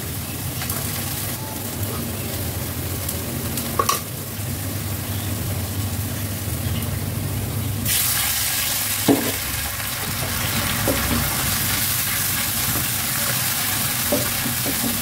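Onion and chopped garlic frying in a pan for a sour amra (hog plum) curry, a steady close sizzle with occasional stirring scrapes and clicks, louder and brighter in the second half, no talk.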